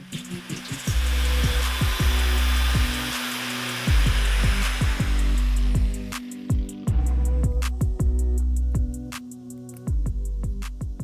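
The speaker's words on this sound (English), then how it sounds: "For cutting the sleeves, I'm just going to use the angle grinder." An angle grinder cuts through motorcycle handlebar sleeves on a Harley Sportster, giving a loud, droning power-tool whine that cuts in and out in several short bursts, with abrasive grinding hiss.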